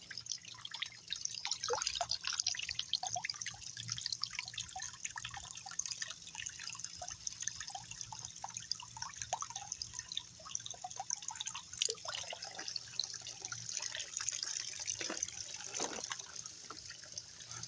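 Water drips and trickles from a tap on a farm in a steady, continuous patter that lasts throughout, with no voices.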